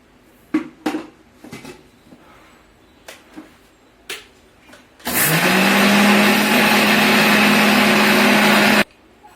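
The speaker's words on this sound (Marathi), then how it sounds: "त्यासाठी मी आता एकदा ना हावरी व्यवस्थित बारीक करून घेणार आहे" Several sharp clinks and taps of a mixer grinder jar being handled, then the motor roars up to a loud, steady whine grinding havari for sesame chutney and cuts off abruptly.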